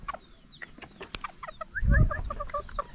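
Chickens at a rural home cluck and chatter in short repeated calls, close by, with a brief low rumble of movement midway and no one speaking.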